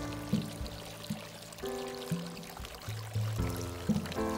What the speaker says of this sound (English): water the tube until water starts to come out the hole on the side of the pot